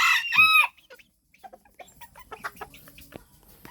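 A bantam rooster crows loudly at the start, followed by soft scattered clucks from bantam chickens and small rustling sounds nearby.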